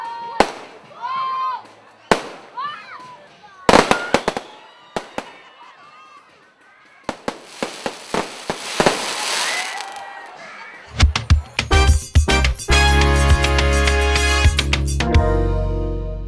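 Midnight New Year fireworks over Statia in the Caribbean: scattered sharp pops and bangs early on, building into a dense, continuous crackling barrage of bursts toward the end, loud and close with crowd noise beneath.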